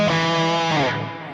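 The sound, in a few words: electric guitar through Flamma E1000 with cab sim on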